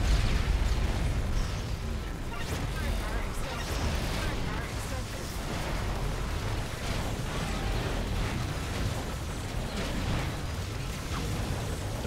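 Rockets and big mines blowing up in Assault Android Cactus, a continuous clutter of bursts and booms at moderate loudness with no clear gaps, mixed with other busy game noise.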